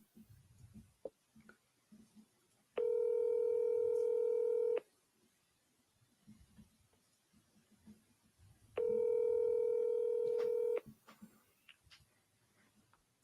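A phone dials a number, giving two separate two-second bursts of steady electronic tone over a quiet room with faint background rustle.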